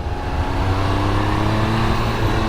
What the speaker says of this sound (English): Oh, you gotta love Triumph's triple engine though.